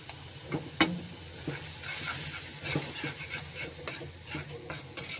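Cumin, chili and turmeric powders with salt frying in a pan while being stirred, a soft steady sizzle under repeated scraping strokes of a utensil, close and fairly quiet, no speech.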